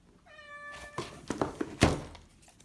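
A house cat gives one clear, rising meow close by, followed by a few soft thumps and knocks nearby.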